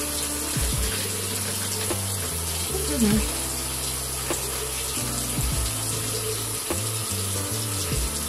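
Water from a tap runs steadily while a shaving brush is wetted and lathered with Bellens soap, close and continuous, with a short murmur from a voice.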